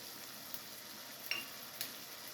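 Spices being stirred into palak paneer gravy in a pan give a faint, steady sizzle, with a few light clicks of a spoon scraping the pan. No voices.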